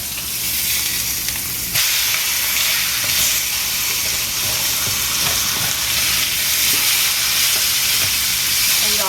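Steak sizzling loudly in a hot pan after being flipped, a dense bright frying hiss that jumps up sharply as the meat lands and then holds steady, close and with no talk.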